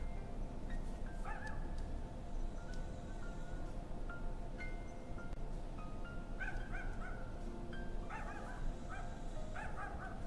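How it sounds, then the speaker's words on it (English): A neighbor's dog barks outside an open window, a run of distant, moderately faint woofs that come in irregular bursts over a steady low background hum. "Sorry if you hear a dog in the background."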